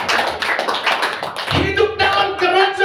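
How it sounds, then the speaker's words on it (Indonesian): A church congregation claps together during a Sunday service, a dense patter of hands that gives way midway to voices and music as the clapping fades underneath. "Kasih tepuk tangan bagi dia."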